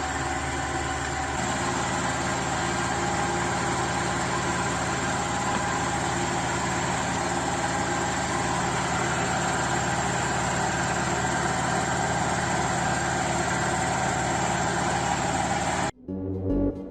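A restored Euro 3 engine idles loud and close, a steady rumbling drone with constant vibration that runs unchanged before cutting out abruptly near the end.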